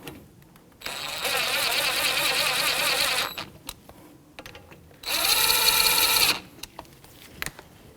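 A power tool with a 14mm socket snugs up the caliper slider pins on a 2007-2017 Jeep Patriot, whirring loudly in two bursts of a few seconds each with quiet gaps and small clanks between them.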